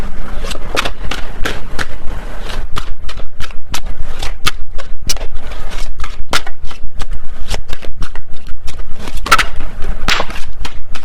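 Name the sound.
shuffling tarot cards, a card flying out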